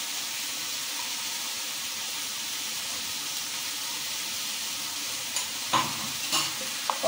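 Ginger, onion, chilli and garlic paste frying with snake gourd in a pan, a steady low sizzle throughout with a few brief stirring clatters near the end, no talking.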